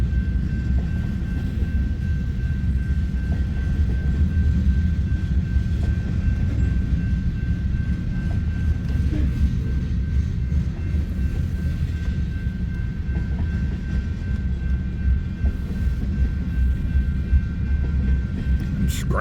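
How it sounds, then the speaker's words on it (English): A Southern Pacific freight train with gondola cars, some loaded with iron scrap, rumbles past steadily and loudly with a continuous low roar, a faint steady whine riding above throughout. "Oh, here comes a Southern Pacific gondola."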